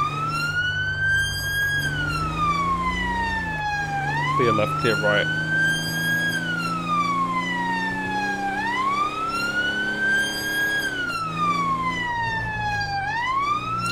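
A police van siren in a GTA 5 UK police mod game wails in long rising and falling sweeps over a steady engine drone, loud and close, with a short burst of faster yelp and a voice speaking over it.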